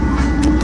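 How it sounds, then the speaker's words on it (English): A northbound freight train rolling by in Fremont, Nebraska, its rear locomotive pushing at the tail end, makes a steady, loud low rumble with broadband rail noise throughout the short stretch. "here comes tail end Charlie on this train."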